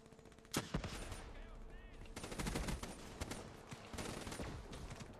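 Rapid gunfire from the video game Black Ops 3 on PS3, with bursts of automatic shots and sharp single cracks over busy game sound, mostly continuous with a louder stretch midway.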